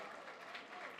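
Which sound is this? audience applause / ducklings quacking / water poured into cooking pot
audience applause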